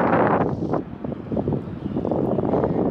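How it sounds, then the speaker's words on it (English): Gusty wind buffeting a microphone on a pedestrian bridge in downtown Omaha: loud, rumbling low-pitched blasts that swell and ease in uneven waves, close and dominating, with no voices. "With this wind blowing, you can feel the bridge moving beneath your feet."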